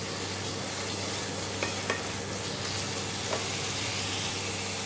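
Carrot halwa cooked in ghee and milk over a medium flame is stirred in a pan, giving a constant sizzling hiss with a few soft scrapes of the spoon.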